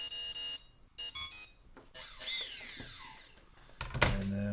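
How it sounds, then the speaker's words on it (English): Electronic beeping from a quadrotor's receiver during transmitter binding, heard as rapid bursts of high-pitched tones followed by a descending electronic chirp and a brief clunk and hum near the end, close and clear without speech. "It's got the fast beep going on."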